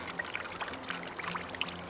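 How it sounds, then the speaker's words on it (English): Sugar syrup is poured into a beehive feeder at an apiary, giving a soft, steady liquid trickle with faint splashy texture that stays close and quiet throughout, with no talking. "This is the feeder, so we pour sugar syrup in this part"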